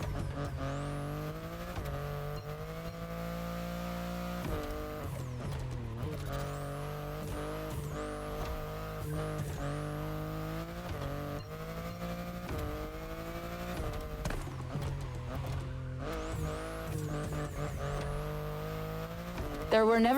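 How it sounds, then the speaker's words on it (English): BMW i8 hybrid sports car driven in The Crew Motorfest, engine whining up through the gears with repeated shifts and drops in pitch, then surging again, steady and close with a voice talking over it. "the sports car you're driving"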